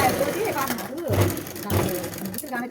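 Domestic sewing machine stitching a blouse hem, a steady mechanical whir in short bursts with someone talking over it throughout.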